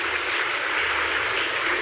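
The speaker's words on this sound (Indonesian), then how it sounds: "Tepuk tangan buat beliau." Steady applause from an audience at an Indonesian talk show, a dense, even wash of clapping that holds at full strength without letup for about two seconds.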